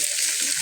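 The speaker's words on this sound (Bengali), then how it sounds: "ডিমটা দিয়ে ভালোভাবে নেড়ে নিচ্ছি" Egg being stir-fried in a pan, a brief burst of steady, close sizzling hiss.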